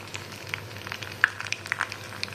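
Curry leaves, dried red chillies and garlic temper in hot oil, crackling with sharp, scattered pops over a soft continuous sizzle, heard close and alone.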